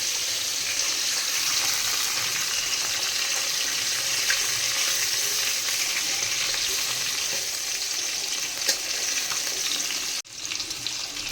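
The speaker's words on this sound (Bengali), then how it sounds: "তাই হালকা করে ভেজে নিচ্ছি মাছগুলোকে" Pieces of katla fish fry lightly in hot oil, giving a loud, dense, continuous sizzle close up, with a brief dip near the end before the crackling picks back up, and no voices.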